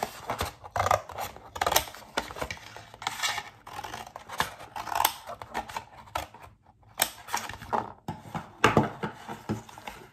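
Scissors snip through a paper plate along marked lines, a run of short crisp cuts and crinkles close by with brief pauses, no talking.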